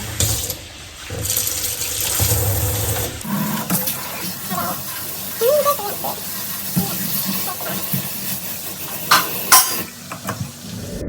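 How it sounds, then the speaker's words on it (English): Kitchen faucet running into a sink while cooking lemon honey garlic chicken tenders and jasmine rice, a steady close water stream with clinks of dishes and a faint sizzle nearby, no talking. "Turn water on."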